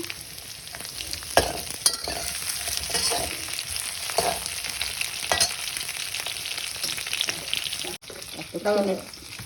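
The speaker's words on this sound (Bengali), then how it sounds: "এটা একটু ভাজা হোক" Vegetables sizzle and fry in a home-kitchen pan for a mixed-vegetable dish, with scraping stir strokes at intervals, loud and close, with no one talking.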